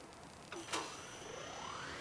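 A repair tool welding in the video game Subnautica: a soft electronic zap followed by a faint, rising synthetic whine over a quiet background, with no speech.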